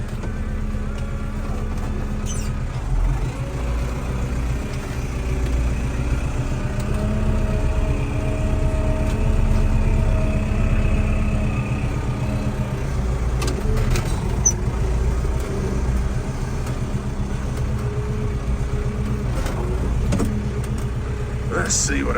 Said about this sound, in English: One hand, drive the tractor, hold